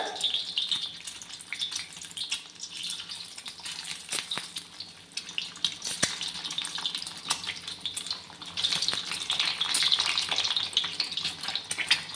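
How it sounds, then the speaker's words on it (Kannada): Halved boiled eggs fry in hot oil for an egg masala curry. A constant crackling sizzle runs throughout, close and fairly loud, with occasional clinks and scrapes from stirring. "ಇದನ್ನ ಇವಾಗ ಎಣ್ಣೆಯಲ್ಲಿ ಸ್ವಲ್ಪ ಫ್ರೈ ಮಾಡ್ಕೊಳ್ಳೋಣ."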